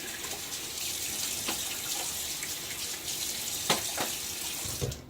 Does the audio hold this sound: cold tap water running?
yes